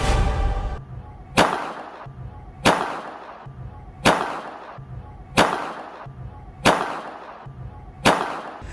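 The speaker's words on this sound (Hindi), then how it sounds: "माही चौधरी ने नियमों को ताक पर रखकर गोली चलाई है।" Seven sharp gunshot reports fired one after another at a steady, roughly one-second rhythm, each a loud crack with a short tail, in an outdoor setting.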